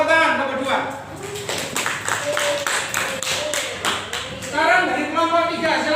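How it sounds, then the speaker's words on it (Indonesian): A classroom audience claps for a group presentation, a loose patter of hands from a modest number of people, with voices talking over and around it. "Tepuk tangan kelompok 2."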